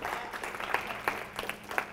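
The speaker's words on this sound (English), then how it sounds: "Give another obligatory round of applause for Anthony" Applause from an audience at a T21C 2010 event, a steady spread of clapping with a few sharper individual claps standing out, fairly close and moderately loud.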